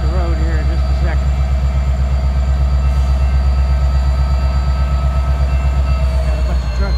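A long freight train rolls steadily past on a West Virginia line near an industrial park, a loud continuous low rumble with rail hum and faint wheel squeal, with no break over the whole stretch.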